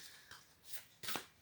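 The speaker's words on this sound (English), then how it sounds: "The deck I'm shuffling now" An oracle card deck, A Yogic Path, is shuffled by hand in quiet, soft bursts of riffling and sliding cards, three or four short flurries with gentle pauses between them.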